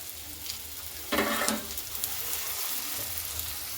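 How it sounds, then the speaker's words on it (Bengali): Wheat-flour tiffin snacks dropped into hot oil fry with a steady close hiss, swelling into a louder burst of sizzling as pieces go in, then settling back to a constant crackle. "তেলটা গরম হয়ে গেলে এবার আমি দিয়ে দিচ্ছি টিফিনগুলো এইভাবে তেলের ওপরে"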